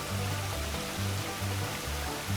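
Waterfall along the Appalachian Trail gives a steady, faint wash of rushing water with a broad, even hiss and no other sounds.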